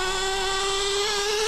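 An LRP 4.6cc nitro engine fitted with a Hobeo carb, running rich, holds a steady high-pitched whine with a strong buzzing tone, loud and continuous without any talking.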